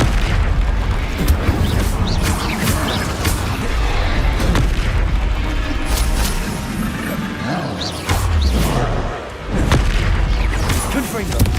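Spell explosions in the video game Hogwarts Legacy, heavy booming blasts and crashes firing off one after another in a dense, loud barrage, with a voice shouting spell names over the din.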